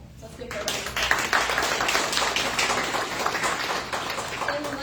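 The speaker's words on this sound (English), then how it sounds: "let's give them a warm welcome and round of applause" An audience at a university career panel claps for a professor, steady clapping lasting several seconds from a crowd in a room.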